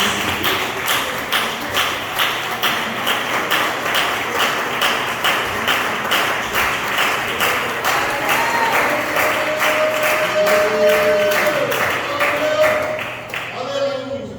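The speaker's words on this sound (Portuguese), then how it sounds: "A igreja pode se assentar e glorificar com as palmas bem alegres para Jesus" Congregation in a Portuguese-speaking church claps joyfully in a fast, regular rhythm, loud and sustained for many seconds, with a singing or sustained voice rising faintly beneath the clapping near the end.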